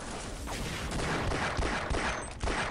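Gunfire from the video game Half-Life comes as a rapid series of sharp shots over a dense, noisy battle backdrop, with several sharper reports standing out near the end.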